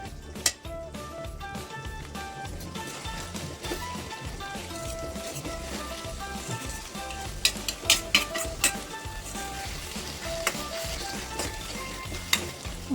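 Mushrooms frying and being stirred in a pan for a mushroom pepper dry, a steady sizzle under occasional sharp metallic clinks and scrapes from stirring.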